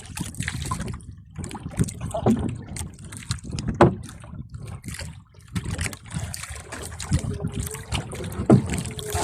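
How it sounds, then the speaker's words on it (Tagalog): Water sloshes and splashes against a small, fast-moving fishing boat in uneven surges, with wind rumble and occasional knocks, close by. "Ang bilis ang bangka"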